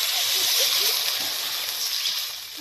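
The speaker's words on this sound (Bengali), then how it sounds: "1 মিনিট মতো নেড়েই আমি জলটা দিয়ে দিচ্ছি।" Water pours and splashes steadily into a pan of fried vegetables and peas for a village-style fish and green banana curry, a loud continuous rushing slosh that eases off slightly toward the end.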